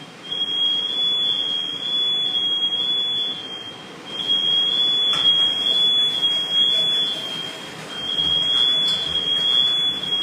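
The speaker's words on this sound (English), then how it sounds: "Got the alarm firing." A smoke alarm shrieks in repeated bursts of high, piercing beeps in a home kitchen during cooking, with butter going into a hot pan; the beeping is loud and near, pausing briefly before starting again.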